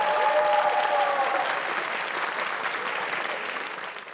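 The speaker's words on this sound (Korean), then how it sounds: "박수 한번 드리죠." A studio audience at a Korean variety show claps together. The applause is loud at the start and stays as a continuous wash of clapping for a few seconds before tapering off slightly, with no voices over it.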